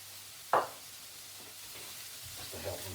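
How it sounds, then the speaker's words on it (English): Vegetables frying in a small amount of oil in a pan for a frittata give a soft, steady sizzle, with one sharp scrape or stir early on and quieter stirring noises later. "Just to help them fry."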